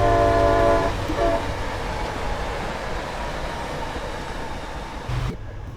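A simulated MBTA HSP46 diesel passenger locomotive in Train Sim World sounds its horn, a loud sustained multi-tone blast over a steady engine rumble, fading out with the running noise continuing before a brief bump near the end.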